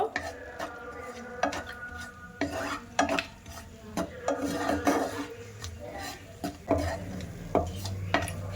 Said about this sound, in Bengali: তিনটে এলাচ একটা দারচিনির টুকরো চারটে লবঙ্গ দিয়ে দিলাম দিয়ে একটু হালকা তেলের মধ্যে নাড়াচাড়া করব